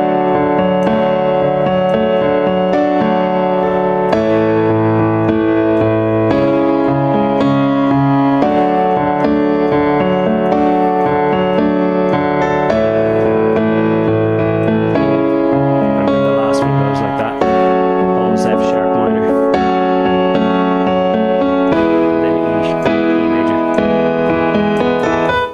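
Sustained piano chords from a song played in a steady rhythm, full and loud, ringing continuously with shifting harmonies and no voices.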